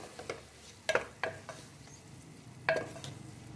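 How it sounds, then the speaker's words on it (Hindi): A spoon stirs turmeric and salt in a pan for keema aloo, giving a few short scrapes and taps against the metal at an irregular pace over a low background sizzle, close and fairly quiet. "अब आपने अच्छे तरीके से इसमें चम्मच ला लेना है"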